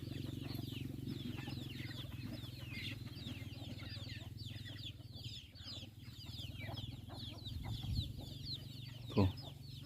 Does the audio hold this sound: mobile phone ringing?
no